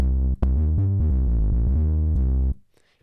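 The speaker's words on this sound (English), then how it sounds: "I have this bass sound on the OP1. It sounds like this." Bass synth notes from an OP-1 synthesizer play alone, a short run of sustained, loud low notes with one brief gap near the start, ending in a quick fade.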